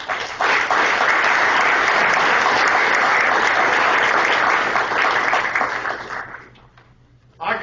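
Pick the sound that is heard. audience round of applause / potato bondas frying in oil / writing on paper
audience round of applause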